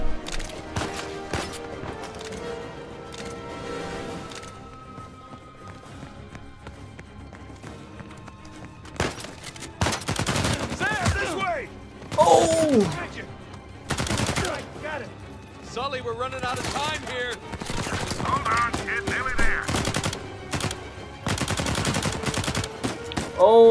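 Gunfire in the video game Uncharted 4 crackles in rapid automatic bursts and scattered single shots, mixed with game effects and people talking over the action.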